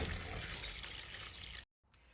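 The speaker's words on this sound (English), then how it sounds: "I'm going to water them from underneath because the seeds are so tiny, we don't want to dislodge them" Water trickling into a seed tray holding tiny snapdragon seeds as it is watered from underneath, a soft continuous wash and dribble that stops abruptly near the end, then resumes faintly.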